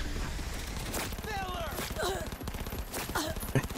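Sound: SMG gunfire in the video game Cyberpunk 2077

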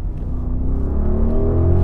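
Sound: Audi engine revving after a manual downshift

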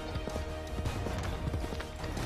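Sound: horse galloping in video game Assassin's Creed 3

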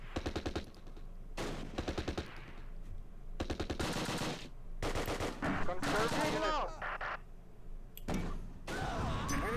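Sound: gunfire in video game Close Combat, Arnhem battle

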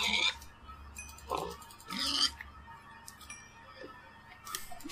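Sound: pigs oinking in Minecraft video game

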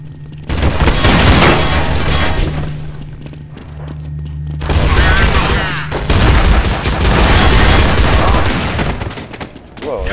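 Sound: bomb explosion in Counter-Strike: Source video game

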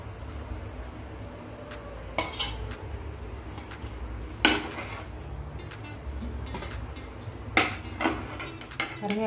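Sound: steamed kozhukattai being placed onto a plate

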